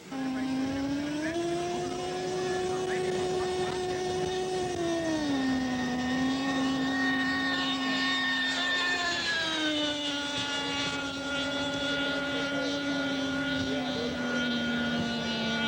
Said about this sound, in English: a Byron Originals prototype F-20, powered by a Rossi 81 engine and a Byrojet fan